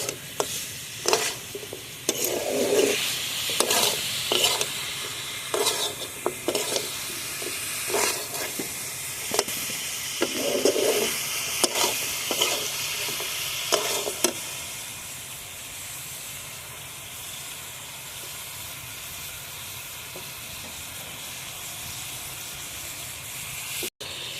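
Duck meat with ground garam masala and spices sizzles in a pan under a soft steady hiss, while a spoon scrapes and stirs in repeated sharp strokes during the first half before the sizzle continues alone.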